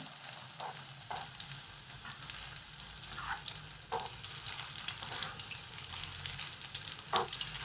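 Soybean seekh kebabs shallow frying in a pan, a steady close sizzle with occasional soft stirring clicks and no voices.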